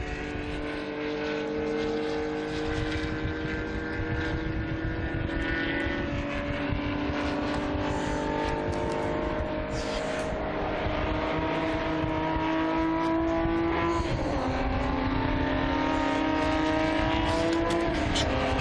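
Historic race cars at the Estoril circuit during the Estoril Classics 2021, including older Porsche 911s, with loud, sustained engine roars and rising and falling revs as cars pass close, and faint commentary underneath.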